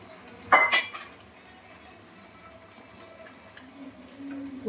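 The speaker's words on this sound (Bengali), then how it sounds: "পোস্ত দিয়ে একটু নেড়ে চেড়ে নামিয়ে নেবো" A utensil stirs poppy seeds in a cooking pan, with one sharp metallic clatter early on followed by faint intermittent scrapes and light clinks.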